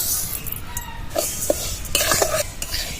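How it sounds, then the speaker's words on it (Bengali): Mung dal dry-roasting in a wok, light rustling and scraping as a utensil stirs the grains, with a few metallic clinks, close. "দেশো মুগ ডাল নিয়েছি সোনা মুগ এবার কড়াইতে দিয়ে দিলাম"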